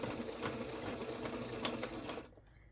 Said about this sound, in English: then we're just going to do a tacking stitch